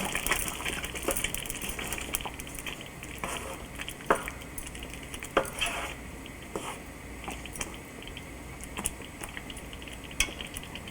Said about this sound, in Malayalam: എന്നിവയെല്ലാം ഇട്ട് നന്നായിട്ട് മിക്സ് ചെയ്യുക.